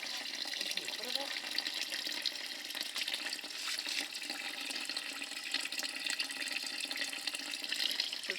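Water runs steadily from a spring tap at a monastery, a continuous broad hiss and splash with faint voices in the background.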